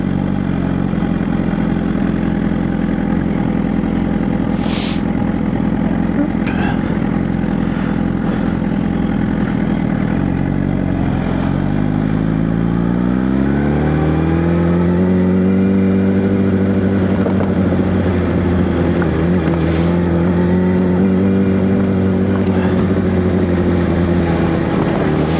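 A motorcycle engine while riding slowly over rough ground, a steady mid-pitched drone that dips and then climbs as the throttle changes, loud and close throughout with no talk.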